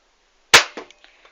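A Nerf Elite Strike toy blaster fires a single shot: one sharp, loud snap, followed by a few lighter clatters and taps as the dart lands, with no talking.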